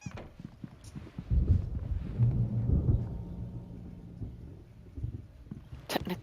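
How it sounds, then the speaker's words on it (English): Thunderstorm in the Alan Wake video game: a deep rolling thunder rumble swells up and lingers for several seconds, then fades, with faint rain beneath and a brief sharp knock near the end. "There's a storm coming."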